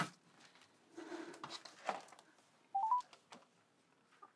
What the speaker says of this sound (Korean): 내가 한번 전화해봐야지.